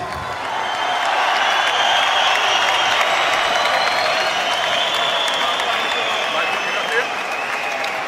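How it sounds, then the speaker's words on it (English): Steady, loud applause and crowd noise from boxing fans filling the SSE Hydro Arena in Glasgow for Josh Taylor, a dense wash of clapping and cheering that holds evenly throughout with no letup. "Josh Taylor basking in the applause of his beloved fans here at the SSE Hydro Arena in Glasgow"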